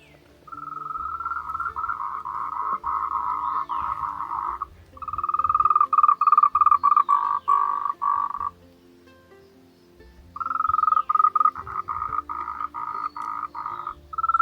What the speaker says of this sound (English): There's lots of frogs down there somewhere.